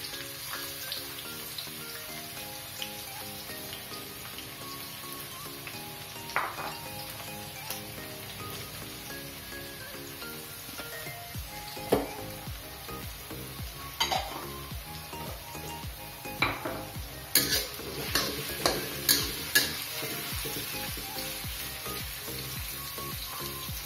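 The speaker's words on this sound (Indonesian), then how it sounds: "So, kita akan tumis sehingga bawang ni benar-benar layu." Onions sauté in hot cooking oil with a continuous soft sizzle. A utensil scrapes and clinks against the pan now and then, with a cluster of knocks near the end. No one speaks.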